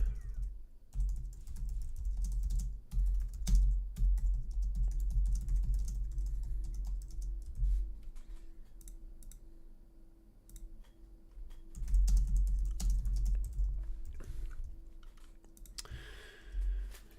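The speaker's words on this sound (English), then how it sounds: "I'm quickly typing, letting everyone know that we're live." Quick typing on a computer keyboard, a dense run of close clicking keystrokes over a low steady hum, pausing briefly midway before resuming.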